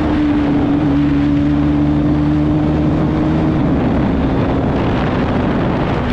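A white Bajaj Pulsar NS200 motorcycle roars at speed in a drag race against a Duke 125, a loud steady engine drone with strong wind rush over the microphone.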